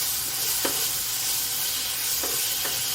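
Chicken and vegetables fry in soy sauce in a hot pan, giving a steady, close sizzle and hiss with a few soft stirring scrapes and no talk.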